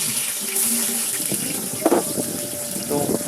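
Raw chicken meat is rinsed under a running kitchen tap for biryani, a steady splashing water rush with brief clattering bursts, close by, with a voice now and then.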